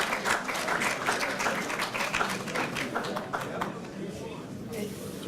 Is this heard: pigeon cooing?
no